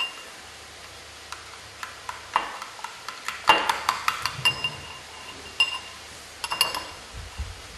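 Utensils clink and scrape against a bowl as ingredients are mixed by hand, a run of irregular light knocks and chinks that grows busier midway, close and clear with no talk.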